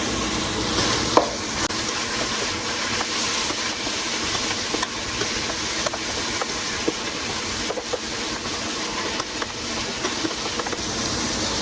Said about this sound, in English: I'm going to go ahead and stir it so that we can get some color on the other side